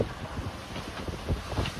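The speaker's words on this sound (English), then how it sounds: "The wind is gusting" Gusty wind of about 28 to 29 knots roars across an open microphone while sailing in the Cycladic Islands, Greece, rising and falling in buffeting bursts with a low, rumbling rush throughout.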